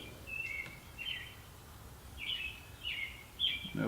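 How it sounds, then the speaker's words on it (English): Birds chirp outdoors on a sunny day, several short, bright calls spaced across a few seconds, fairly faint and clear over quiet background noise. "the sun is shining and the birds are chirping"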